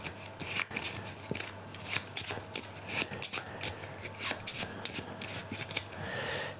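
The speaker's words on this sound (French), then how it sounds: "Je remélange les cartes." Playing cards from the Arkham Horror board game are shuffled by hand in repeated crisp riffling bursts, close and fairly quiet, with brief pauses between passes and no one talking.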